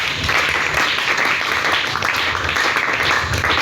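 Church congregation applauding in acclamation of Jesus during a French-language service, a dense, steady wash of many hands clapping at close range throughout.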